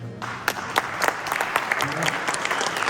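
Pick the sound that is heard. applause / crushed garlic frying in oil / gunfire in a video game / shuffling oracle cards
applause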